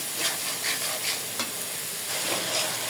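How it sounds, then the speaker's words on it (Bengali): Spice paste for a shol fish curry with cauliflower and potato sizzles steadily in a hot pan while a spoon stirs and scrapes through it in soft repeated strokes, close and continuous. "পাঁচ মিনিটের মতো মশলাটা কষাতে হবে ভালোভাবে"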